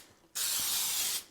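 Light cooking spray hisses from a can onto a pan for chocolate chip cookies, one steady, close burst of just under a second that starts sharply and tapers off.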